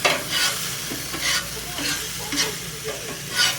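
Food sizzles and gets stirred on a Blackstone griddle, a constant close hiss broken by rhythmic bursts of spatula scraping and pushing every half second or so, no talk.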